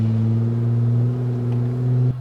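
A 4WD engine pulls steadily up a steep hill in low range on BFG KO3 tyres, a loud, close, even drone that holds for about two seconds before cutting off abruptly near the end.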